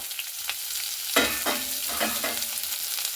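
Onions and slit green chilies fry in a little oil in a wok, a steady close sizzle broken by several scraping stirs of the spatula.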